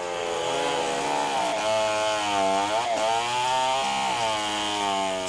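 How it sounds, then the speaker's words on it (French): A chainsaw roars in the Borneo jungle as trees are cut, its engine note rising and falling steadily under load over several seconds, loud and close. "un peu plus bas, c'est une partition pour tronçonneuse qui se joue"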